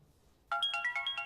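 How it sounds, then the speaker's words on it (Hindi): A phone ringtone starts abruptly and rings loudly and close in a quick repeating electronic melody, cutting through a quiet night-time room. "फोन उठाने की सोचना भी मत, ठीक है?"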